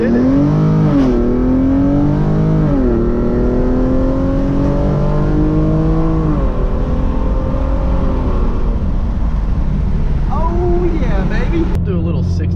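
A Hyundai Genesis Coupe 3.8 V6 fitted with ARK downpipes pulls hard through first gear, its loud exhaust note climbing steadily in pitch, heard close from inside the car with voices over it.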